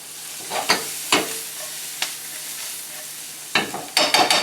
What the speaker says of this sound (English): Scraping up some of that flavor from the pan.